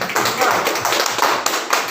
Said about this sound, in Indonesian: kita beri tepuk tangan dulu untuk kelompok ini